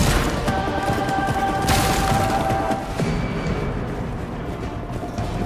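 A VR zombie shooting game fires guns in a loud, continuous barrage of shots that crash together into a dense roar, slowly easing off toward the end.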